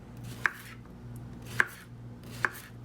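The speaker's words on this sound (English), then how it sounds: "now we're finally going to be slicing our summer squash" A knife slices yellow and green summer squash on a board, three crisp, evenly spaced chops against a quiet background.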